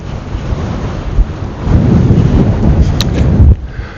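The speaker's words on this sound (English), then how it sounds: "The wind is definitely increased" Strong wind buffeting the microphone on the summit of Meall Tairneachan in the Scottish hills near Aberfeldy, a loud continuous roar with gusts that swell midway and drop off sharply near the end.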